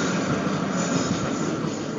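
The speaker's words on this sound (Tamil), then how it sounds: "அந்த ஒரு நிமிஷம் ட்ரெயின் ஒண்ணு கிராஸ் ஆகுது" A train passes close by with a loud, continuous rumble and rushing noise that holds steady for the whole moment, with no voices over it.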